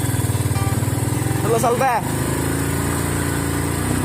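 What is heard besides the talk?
motorcycle engine running, three riders on one bike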